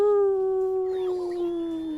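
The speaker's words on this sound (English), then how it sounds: "howling very much like a beagle. Howling so much like a beagle." A beagle-Catahoula mix dog lets out one long, sustained howl that holds steady and close, wavering slightly as it fades over two seconds.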